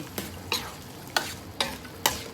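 Braised pork mixture with fish sauce stirred in a pot for Vietnamese-style braise, five distinct spoon scrapes at a steady rhythm over a low simmering sizzle.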